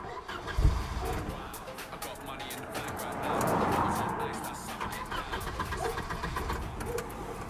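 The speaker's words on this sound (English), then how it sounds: "The car stalled, dude." A modified car's engine sputters and labors, revving unevenly before stalling, with people talking over it.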